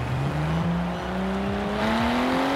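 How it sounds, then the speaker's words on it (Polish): A Volvo V60 T6 in the racing game Forza Horizon 4 revs steadily, its engine note climbing gradually in pitch, loud and alone without talk. "Tak brzmi Volvo w standardowym silniku?"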